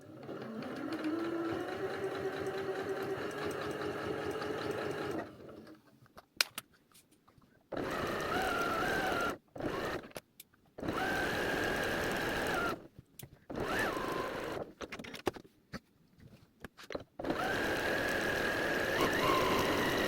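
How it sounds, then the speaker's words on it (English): A new sewing machine stitches fabric for a makeup bag, running in a steady mechanical whir up close, stopping and starting in bursts of several seconds with brief pauses between seams. "These are like really easy to make now on my new sewing machine."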